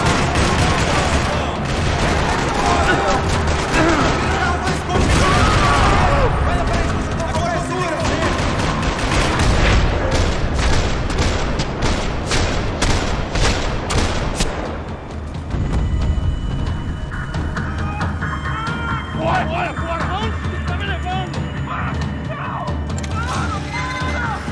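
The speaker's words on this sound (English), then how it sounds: "Another parking lot rattling with gunfire." Rapid gunfire rattles through a parking lot in the video game Max Payne 3, loud bursts of automatic shots and impacts dominating, then thinning into scattered shots and mechanical noise.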